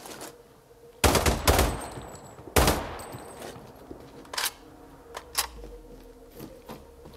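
Gunfire in the sniper video game Sniper: Ghost Warrior 3: two loud, sharp shots about a second and a half apart, each with a rolling echo, followed by smaller, fainter cracks and clicks.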